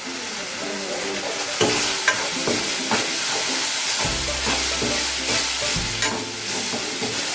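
Chili powder and coriander powder fry in a pan for paneer kurma while a spoon stirs them, a steady loud sizzle with repeated scraping strokes and a brief low hum partway through.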